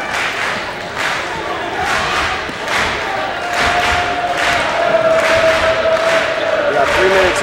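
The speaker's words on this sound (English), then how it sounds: "the crowd is very loud at this point" Loud crowd cheering and shouting fills a high school basketball playoff game between Sterling and Point Pleasant Boro, a dense steady roar with rhythmic bursts of noise throughout.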